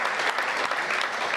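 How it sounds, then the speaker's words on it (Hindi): Loud, dense applause from an audience at a Hindi poetry recital greets the poet Saurabh Jain, a continuous sustained burst of clapping with no pauses. "अब जोरदार तालियां सौरभ जैन"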